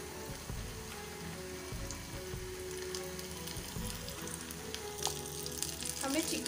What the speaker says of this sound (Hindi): अब मैं फ्लेम को लो कर दूँगी और इसे फ्राई करने डालूंगी।